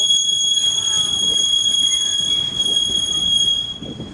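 A freight train rolls past at Commerce with loud, sustained high-pitched wheel squeals ringing over the low rumble of the cars.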